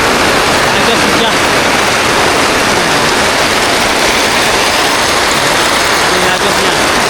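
Heavy rain runs off a homemade PVC gutter on a house in a loud, unbroken rushing wash, with voices faintly under the flow.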